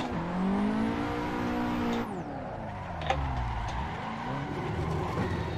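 A Nissan S13 drifting on a touge-style circuit, engine droning steadily then dropping in pitch as the revs fall, with tire noise and a sharp thump partway, close and loud with no talk.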